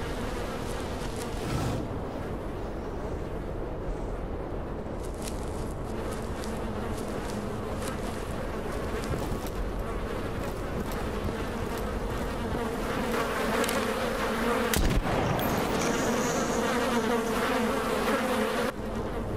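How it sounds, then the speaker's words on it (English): Dense, steady swarm of bees buzzing without a break in the video game Stalker Clear Sky, loud and close throughout, with a sharp thump near the end. "Do they launch bees?"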